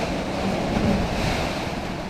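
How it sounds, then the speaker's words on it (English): Sea waves splash against the shore below the seawall at Dawlish in Devon, a steady, continuous wash of surf with wind noise, fairly near and unbroken, with no voices. "Then you've got the waves splashing in down there."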